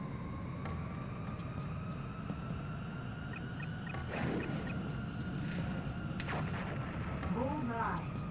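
Missiles explode in the flight combat video game Ace Combat 3 over a constant jet engine roar. Rumbling booms and alarm tones come at irregular intervals, and a voice speaks briefly.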